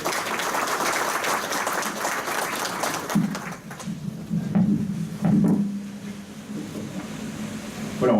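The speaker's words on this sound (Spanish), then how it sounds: "fuertes palmas para él" Audience applause at a seminar on Peru's new criminal procedure code, held in the Congress of the Republic, greeting a speaker. Dense clapping fills the first three seconds, then thins into scattered claps under a steady low hum and room noise.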